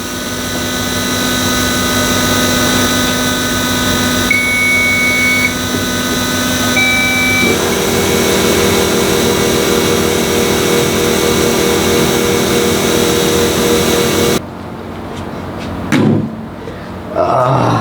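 Electric fuel pumps running together in two-pump mode on a vehicle with an injector problem, a steady loud whine and hum that holds for most of the stretch before cutting out abruptly, followed by brief clunks and near-silence.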